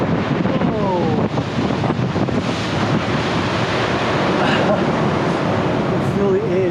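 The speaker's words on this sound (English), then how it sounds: "You can feel the air just blowing out of you like nothing else" Strong wind roars steadily over a coastal gorge near Munmorah on the NSW Central Coast, buffeting the microphone with constant loud rushing noise while surf churns beneath; a person gasps and exclaims briefly under the gusts.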